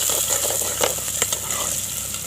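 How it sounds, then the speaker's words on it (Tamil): Onions with green chilies and curry leaves frying in a pan over a wood-fired stove, village style, a close steady sizzle with a few stirring scrapes and no voices. "நல்லா இந்த அளவுக்கு வெங்காயம் வதங்கட்டும்."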